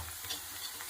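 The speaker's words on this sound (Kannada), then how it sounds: "ಈರುಳ್ಳಿ ಕೆಂಪಗಾಗೊಂಡು ಸ್ವಲ್ಪ ಹುರ್ಕೋಬೇಕು." Onions fry in a tempering of mustard seeds and curry leaves, a brief steady sizzle with light stirring scrapes, close and fairly quiet.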